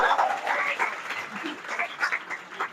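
Students in a crowded hall at a Bihar talent show clap for a mimicry act, a rough, uneven burst of applause that swells and thins over a few seconds, with voices mixed faintly into it.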